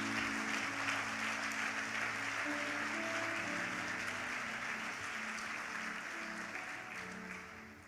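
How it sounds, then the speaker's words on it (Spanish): Sustained applause from a church congregation during a sermon, a dense continuous wash of clapping that slowly fades toward the end, with faint voices mixed in. "Dale un fuerte aplauso al Señor"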